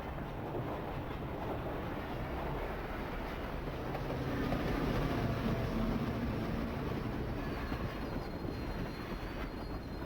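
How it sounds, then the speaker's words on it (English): A train rolls steadily through a scene in the Professor Layton and the Diabolical Box video game, a continuous rumbling ride with a soft rhythmic clatter that holds at an even level throughout, with no talking. "The 2D and 3D trains look pretty different, don't they?"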